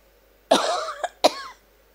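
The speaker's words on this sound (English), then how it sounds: "Well, now it's coming, coughing again." Two harsh coughs close together, the first longer and rasping, the second shorter, loud and near with no talking.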